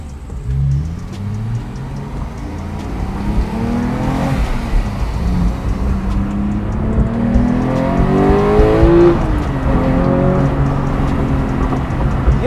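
Manual Porsche 911 GT3 engine heard from inside while cruising, steady loud drone that climbs through the gears with lazy shifts and rising revs, no talking.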